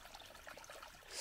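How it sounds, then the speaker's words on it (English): Creek water flows and trickles steadily over a bed where sediment is settling, a soft continuous wash that swells slightly at the end. "Just beautiful to see some flowing water."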